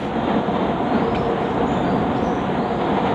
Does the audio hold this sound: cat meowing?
no